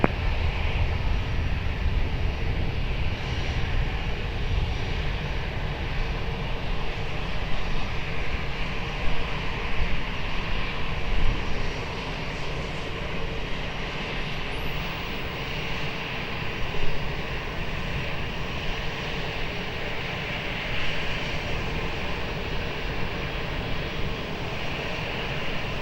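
A jet airliner taking off from runway 20 at Lisbon Airport, a steady broad engine roar that holds loud and continuous throughout, with a slight swell near the middle and no speech.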